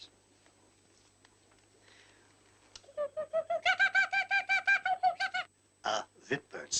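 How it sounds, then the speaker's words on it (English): A kookaburra calls in a rising burst of rapid, repeated cackling hoots that grow louder and then break into a few separate hoots, following quiet room sound at the start. "I thought I heard a bird. Oh. A kookaburra."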